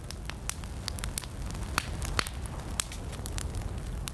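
A campfire in a desert village crackles with scattered sharp pops and snaps over a faint, steady hiss. The sound is fairly quiet and continuous.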